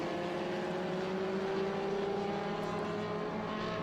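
Vintage Group 1 saloon race cars, including an Elva Courier and a Porsche 914, lapping Laguna Seca in an SVRA race, giving a steady, fairly distant engine drone with no breaks.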